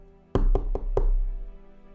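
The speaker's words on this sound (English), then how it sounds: "they knocked on the guru's door" Four sharp knocks on a door in a quick, slightly uneven rhythm, close and loud, with a faint resonant hum behind them and no speech.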